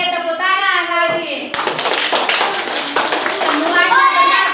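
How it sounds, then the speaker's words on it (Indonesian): Children clap their hands together in a classroom, a loud burst of brisk clapping that runs steadily for several seconds, with a voice speaking before it begins and again as it ends. "Oke, tepuk tangan lagi."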